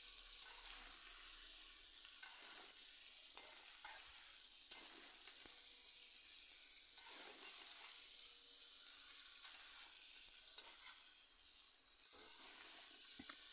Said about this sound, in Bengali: শিমের সাথে সবজিগুলো আবার ভালো করে মিশিয়ে নিচ্ছি।